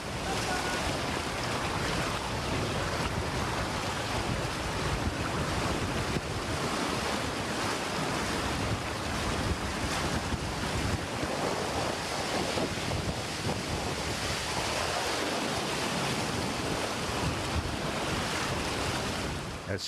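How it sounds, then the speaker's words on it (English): Roaring floodwater from a raging river in the mountains of Afghanistan rushes steadily and loudly, a dense unbroken churn with wind buffeting the microphone. "But is it safe to cross what is now a raging river?"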